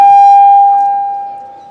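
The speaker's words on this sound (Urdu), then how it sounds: "کیا بھائی سائرن دے رہے ہو ختم کرنے کے لیے؟" A siren sounds as one loud, steady electronic tone that holds its pitch and then slowly fades, heard alone with no voices over it.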